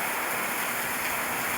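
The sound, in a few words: rain falling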